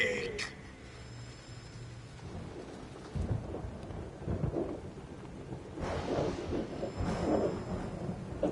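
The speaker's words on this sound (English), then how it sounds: "Who's afraid of a little thunder?" Thunder rumbles and rain falls in a stormy scene from the stealth video game Metal Gear Solid 3: Snake Eater, with low booming swells rising midway over a steady wash of rain.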